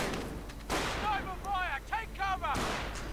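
Sharp gunfire cracks from a WWII strategy video game, several reports spaced across a few seconds, with a louder burst near the start and another near the end, mixed with whistling tones and game sound effects.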